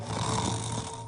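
A cartoon character's voice imitates loud, deep snoring, pretending to be a stomping Snore-A-Saurus, one continuous close rumbling snore.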